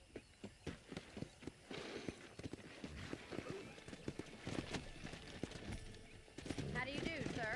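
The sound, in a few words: pack of wild horses galloping in Red Dead Redemption video game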